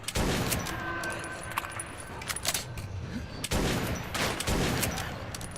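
Rapid gunfire from the video game Metro 2033, dense bursts of shots with loud cracks repeating over a few seconds, with a player talking over the action.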